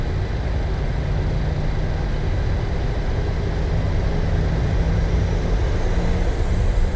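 Airliner jet engines spool up during a simulated takeoff roll in an Airbus flight simulator game, a steady loud broadband roar with a low hum that holds constant throughout, no voices over it.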